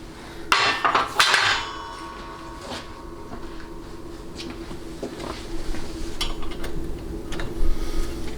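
Hammer blows tap a bushing into a 4L80E transmission planet, with a few sharp metallic strikes early and lighter ringing knocks later over a steady workshop hum.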